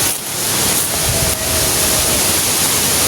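Strong wind rushes and buffets loudly and close for about three seconds as a dense, steady roar with slight surges, and no voices are heard.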